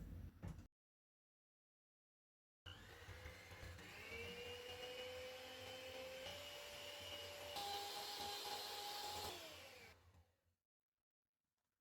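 An electric hand mixer whirs steadily while beating egg yolks with sugar for tiramisu, starting after a brief silence, its pitch shifting slightly as it runs for several seconds before switching off.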